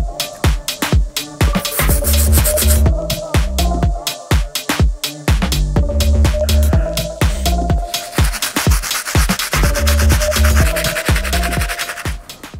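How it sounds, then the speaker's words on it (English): A stiff, hard bristle brush scrubs the soles of Air Max 1 Kakigori sneakers with soapy cleaning solution, giving close, loud repeated strokes in bursts with short pauses between passes. "let's start off by using our stiff, hard bristle brush to clean up these soles"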